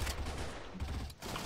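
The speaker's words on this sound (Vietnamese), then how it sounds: "Đây mình bắn súng gần." Close-range gunfire in the shooter game CrossFire: rapid bursts of automatic shots, loud and near, with a brief gap before firing resumes.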